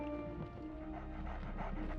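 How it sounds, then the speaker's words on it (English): Guard dogs in the pirate video game Sea of Thieves whimper and pant in soft, sad bursts, close by under a steady background drone. "The governor's guard dogs get tormented by the guards, you see. They've lost all the fire in their little bellies."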